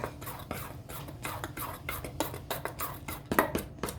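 A utensil stirs slime in a bowl with rapid, repeated wet scraping and clinking strokes, close and fairly quiet, continuing steadily for several seconds.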